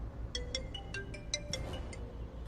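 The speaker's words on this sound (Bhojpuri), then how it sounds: "पृथ्वी के फोन हुई।" A mobile phone rings in a home during a family TV drama scene, a repeating series of short bright electronic tones in a quick, steady pattern, moderately faint over a low background hum.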